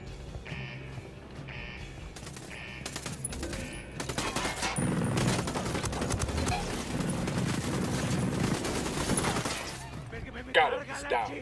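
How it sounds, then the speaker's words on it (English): Bursts of gunfire in Ghost Recon Wildlands rattle through dense, continuous combat noise, fairly loud and layered with explosions, while voices talk over the fighting. "Opening fire on these fuckers."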